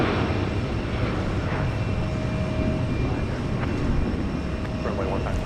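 An Air Canada Airbus A220 jet takes off at Houston Intercontinental, a broad steady engine roar heard from a distance, mixed with background noise and faint voices throughout.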